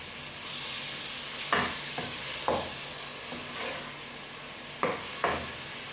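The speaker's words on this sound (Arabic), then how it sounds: "انا اللي درت لها على نار قليله وخليتها تقلى" Chicken breast and onion fry in a pan over low heat, a steady soft sizzle broken by a few sharp spatula scrapes and knocks against the pan.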